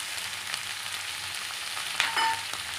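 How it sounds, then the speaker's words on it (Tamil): Chilies, garlic, ginger and tomatoes fry in hot oil with a steady, close hiss and crackle, broken near the end by a brief stirring clatter. "இதெல்லாம் நல்லா எண்ணெயில் வறுத்து எடுத்துக்கலாம்."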